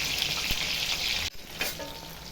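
Barbecue chicken cooks over a medium flame with a dense, steady sizzle and crackle, briefly cut off before resuming more softly with occasional pops, up close and without speech.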